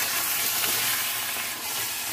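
Spinach, green chilies and garam masala soft-fry in a pan for palak gosht, giving a steady, loud, dense sizzle and hiss that carries on without a break.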